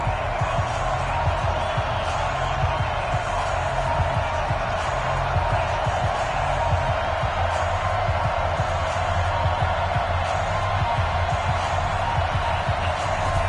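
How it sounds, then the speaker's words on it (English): Constant dense roar of a stadium crowd at an NFL game in a video game, a loud unbroken wash of cheering and murmur with low rumbling underneath and no clear individual voices. "This crowd is ready as their guys get set to match up with the Atlanta Falcons."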